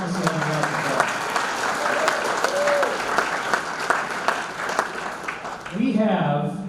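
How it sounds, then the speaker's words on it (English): Audience in a hall claps steadily at a sports hall of fame ceremony, a sustained crowd applause that fades as a voice starts speaking near the end. "Give Rogers Pharmacy a round of applause."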